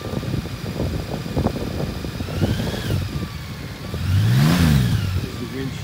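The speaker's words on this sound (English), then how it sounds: "There's the windshield going up." Powered windshield on a 2018 Honda Goldwing Bagger motorcycle rising, a short whining motor sweep over the idling engine and background noise, near and moderate in level.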